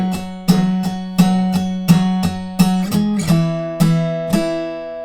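An electric guitar plays a punchy octave riff from Starving by Hailee Steinfeld and Zedd, about ten sharp picked hits in a driving rhythm, clear and close.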